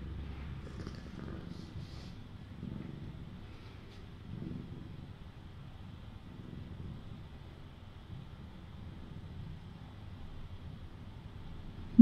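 A cat purrs steadily at an outdoor feeding station, a soft low rumble with faint wind noise around it and no speech.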